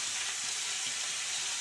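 Chopped onion going into ivy gourd frying in a pan gives a faint, steady sizzle with no break, low and even throughout.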